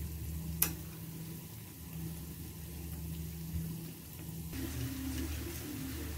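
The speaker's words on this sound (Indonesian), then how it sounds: "Kemudian kita goreng lagi hingga berwarna kuning kecoklatan ya." Lentho cassava fritters frying in hot oil, a steady close sizzle throughout with a brief sharp crackle early on and a slightly louder bubbling texture toward the end.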